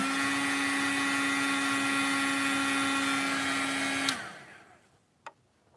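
A heat gun blows with a steady whirring hum while melting embossing powder, then switches off and winds down, followed by a faint click.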